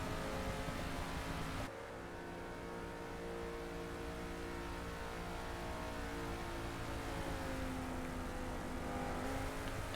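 A Ford Mustang race car in Forza Motorsport roars steadily at high revs, loud and close throughout, with a brief dip and shift in tone early on before the constant engine drone resumes.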